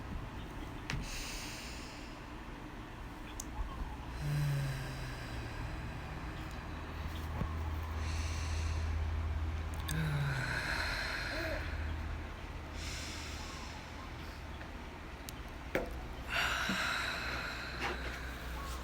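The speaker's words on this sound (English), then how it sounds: "Let's take another 3 breaths together." Several people take deep breaths together in a guided session, with slow rhythmic inhales and sighing exhales recurring at intervals against a quiet background hum.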